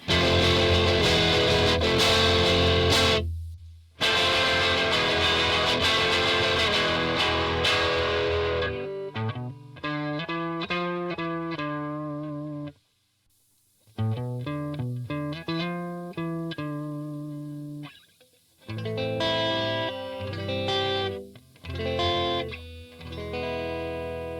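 An electric guitar plays through a turbo distortion pedal, loud and saturated, with strummed chords and short riffs separated by brief silences.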